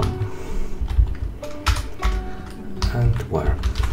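Rapid keystrokes on a computer keyboard while a SQL query is typed into SQL Server Management Studio, a steady close clatter running under a voice.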